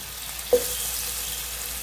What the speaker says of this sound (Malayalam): വെള്ളമുണ്ട് ചെറുതായിട്ട് തോന്നുന്നു അതുകൊണ്ടാണ് ഒരു പൊട്ടിത്തെറി വരുന്നത് എണ്ണയിൽ